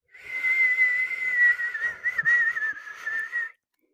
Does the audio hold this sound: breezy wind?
no